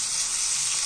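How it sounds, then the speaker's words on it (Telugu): Peanuts, tomato and green chilli frying together in a little oil for chutney, giving a loud, steady, close hiss of sizzling with no pauses and no voices. "కొంచెం కలర్ వచ్చేంత వరకు వేయించుకుంటా."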